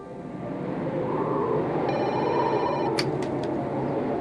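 A telephone rings through a steady background hum, giving a short electronic trill followed by three quick, sharp bell-like pulses near the end.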